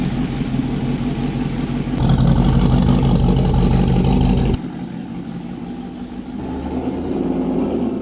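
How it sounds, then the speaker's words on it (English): A big supercharged Silverado pickup truck engine runs loud and steady nearby, surging to a heavier roar partway through before dropping abruptly to a lower idle, with no voices. "Truck is officially running."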